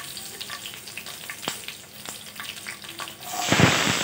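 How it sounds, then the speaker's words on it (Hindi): Finely chopped onions fry in oil, with a steady low sizzle, a few sharp clinks and a louder hiss that swells near the end. "बारीक कटे हुए प्याज को डालेंगे। इसको गोल्डन ब्राउन होने तक भूनेंगे।"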